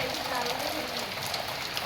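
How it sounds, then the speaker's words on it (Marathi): Continuous rain falls steadily near a sculptor's workshop in Khopi village, a dense, even hiss of drops on surfaces with no break in intensity. "सतत पाऊस चालू आहे"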